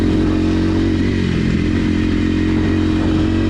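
Kawasaki KLX 230 dual-sport motorcycle ridden hard in second gear, its engine roaring loud and steady throughout at close range with rattling, buzzy exhaust and no speech over it.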